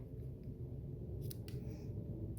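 Two or three quick, crisp snips of scissors trimming ribbon from a freshly tied bow at a kitchen table while making a stamped greeting card, faint and close over a low room hum.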